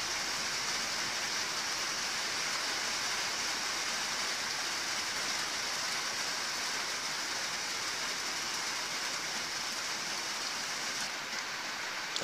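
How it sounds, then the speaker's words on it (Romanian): Steady rain falls continuously in rural Vrancea in May, a dense, even hiss of drops spread across the whole scene with no breaks, fairly loud and alone with no voices. "Sunetul unic al ploii"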